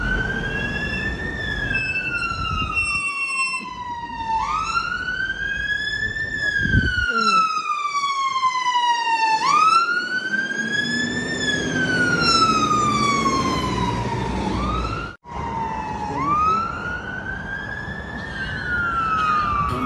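A loud wailing fire engine siren rising and falling repeatedly, holding steady nearby with traffic rumble beneath in Blairgowrie, Scotland, then fading slightly near the end.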